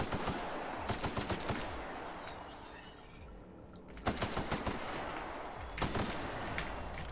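Rifle gunfire in The Outer Worlds, repeated sharp shots in irregular bursts, loud and close, with a brief lull before firing resumes in several more volleys.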